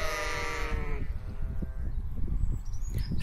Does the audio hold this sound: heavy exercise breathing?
no